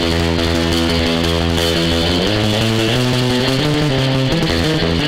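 Surf electric guitar through a spring reverb unit set with the dwell low and the tone and mixer high, loud sustained chords washing into dense dripping reverb, full and continuous, no voices.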